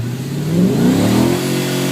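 A 2004 Audi S4 V8 with a Milltek exhaust revs once, the engine note climbing then falling back, loud and close with no talking.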